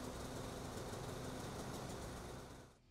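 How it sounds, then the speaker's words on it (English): A Polaris Pro-RMK snowmobile engine runs at a steady, rumbling idle, close and even, then cuts off abruptly just before the end. "Finally, start the engine to ensure proper operation."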